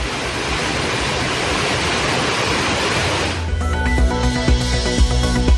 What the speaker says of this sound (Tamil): குற்றால அருவிகளில் 2வது நாளாக காட்டாற்று வெள்ளம்.